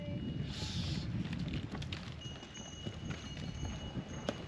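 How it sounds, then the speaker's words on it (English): Pack horses carrying slabs of slate clop along a mountain trail on the Annapurna Base Camp trek in Nepal, a steady, close run of hoof beats under gusty wind noise. "those horses are actually carrying slabs of slate"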